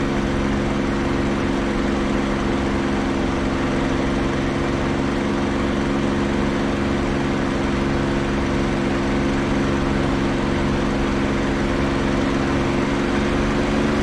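A piston aircraft engine at full throttle, 3000 RPM, in a DCS World flight simulator bomber escort mission, droning steadily and loudly with an unbroken low harmonic hum throughout.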